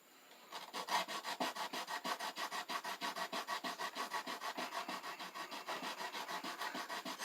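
A part being sanded before soldering, a close, steady back-and-forth rasping in quick even strokes that runs nonstop for several seconds after a short quiet start, with no talking.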